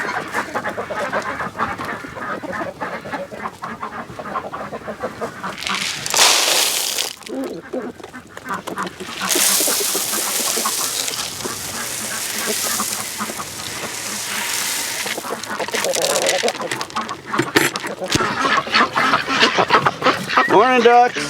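Ducks quacking on a winter morning near a greenhouse, with chickens nearby, a busy run of overlapping calls close by, mixed with talking throughout.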